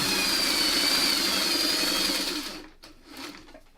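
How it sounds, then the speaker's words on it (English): A sewing machine stay-stitches the fabric of a small hair bow, whirring loud, close and steady for about two and a half seconds before it stops abruptly, leaving faint handling noise. "You're going to do some stay stitching"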